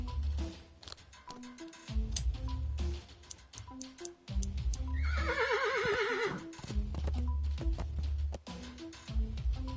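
A horse in the video game Willy Morgan lets out a loud, wavering whinny in the middle, set against tonal game music and scattered clip-clop and ticking effects; no speech.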